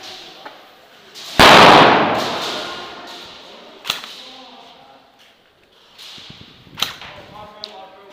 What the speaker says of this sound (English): That grenade should have got anyone new.